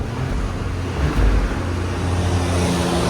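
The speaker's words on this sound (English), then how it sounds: "Most of it is road noise." Steady cabin road roar inside a burnt orange 2023 Porsche Cayenne S Platinum with a 2.9-liter twin-turbo V6 and straight-piped exhaust, a continuous low rumble with a brief swell midway and no talking.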